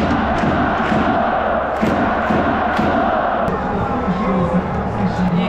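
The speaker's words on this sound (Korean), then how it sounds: "팬들이 다 가지 않고 이렇게 박수 쳐주고 있어요" Baseball fans at the Tokyo Dome lingering after a Yomiuri Giants vs Rakuten Eagles game, a big-stadium crowd roar with clapping and cheering blended into a constant wash, voices talking close over it.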